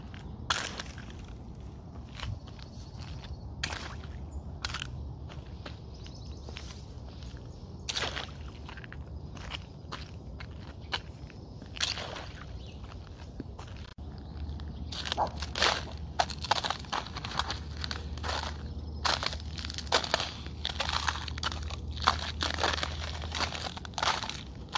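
Icy snow and slush crunch and crackle underfoot in irregular bursts, getting busier and louder partway through, with no voices.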